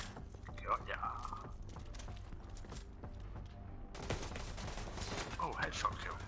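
Gunfire in the video game The Division 2, with scattered shots and short bursts heard at a moderate distance over steady game ambience, including a sharp cluster of reports near the start and another near the end.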